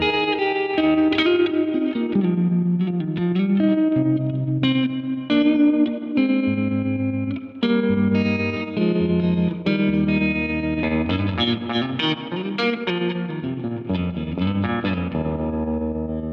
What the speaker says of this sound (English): from the drippy spring reverb and pulsing harmonic tremolo to a more expansive hall, 80s hall reverb and a choppy photo trem